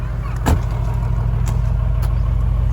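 A Toyota HJ61 engine runs with a low, steady idle rumble up close, with a brief knock near the start and faint ticks over the constant drone.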